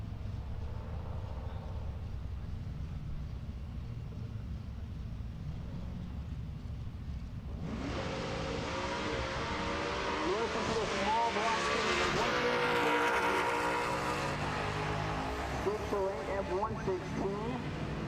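A third-gen drag racing car with a 427 cubic inch small block Chevy, manually shifted, roars to life and winds high at a drag strip, loud and sustained for several seconds after a quieter rumbling start, with announcer commentary over it.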